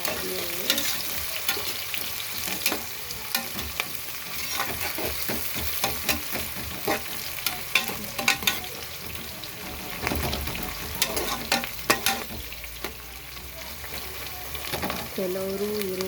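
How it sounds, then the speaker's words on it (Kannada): Onions frying and being stirred in a pan for a pressure-cooker chicken biryani, with a steady sizzle and repeated scraping stirs throughout, close and fairly quiet, with no talking. "ಚೆನ್ನಾಗಿ ಫ್ರೈ ಮಾಡಿ, ಸ್ವಲ್ಪ ಬ್ರೌನಿಷ್ ಕಲರ್ ಚೆನ್ನಾಗಿರುತ್ತೆ ಈರುಳ್ಳಿ."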